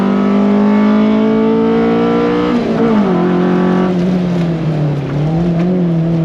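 Race car engine on a time attack lap at a track, loud and close throughout, holding a steady high pitch, then dipping and pulling back up as it brakes and accelerates through corners.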